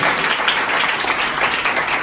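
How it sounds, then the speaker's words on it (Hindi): A church congregation claps loudly in praise of the Lord, a dense, even wash of many hands throughout the short stretch with no speech over it. "प्रभु के लिए जोर से ताली बजाएं।"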